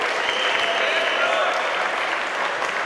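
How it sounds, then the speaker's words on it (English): Dense, steady applause from an audience at a live fight event fills the space, a continuous roar of clapping with a voice faintly beneath it. "a round of applause for George for stepping out and saving this"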